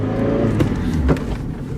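A car driving along with steady engine drone and brief revving surges, close and continuous, with no talk.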